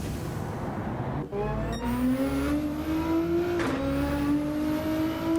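A Gran Turismo 7 race car engine accelerates out of the pit lane, a loud rising whine climbing steadily through a gear change, with a brief dip before the pull.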